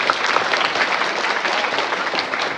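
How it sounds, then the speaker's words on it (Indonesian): Crowd applause at an Isra Miraj religious gathering in Indonesia, a dense, steady clapping from many hands that fills the whole moment with no voices over it. "Tepuk tangan untuk Indonesia."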